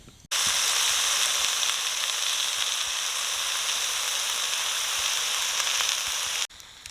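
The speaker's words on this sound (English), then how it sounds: "I'm going to brown the chicken off." Loud, continuous sizzling as chicken browns in a hot Dutch oven at a campfire, starting abruptly and cutting off near the end, with no talking.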